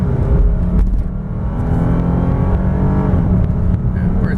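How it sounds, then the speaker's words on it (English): A 2007 Lexus GS350 accelerates from a standstill at about three-quarter throttle, its engine droning loudly and rising in pitch from inside the cabin, with no talking. "3, 2, 1, and go"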